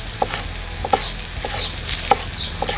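Knife slicing small red capsicums on a board outdoors, a handful of crisp, sharp cuts spaced irregularly, close and moderately loud over a faint background hiss.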